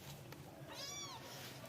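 A stray cat meows once, a single rising and falling call near the microphone in a quiet indoor space with faint background hum.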